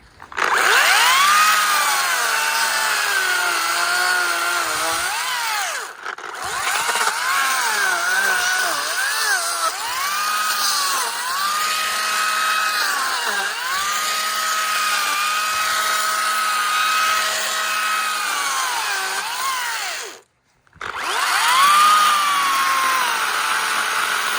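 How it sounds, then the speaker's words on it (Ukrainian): A Makita DUC254 cordless chainsaw saws through green, freshly cut branches, a steady high whine that rises and dips as the chain bites, running almost continuously with two short stops. "Зараз переберу гілки і попиляємо ще трошки сирого."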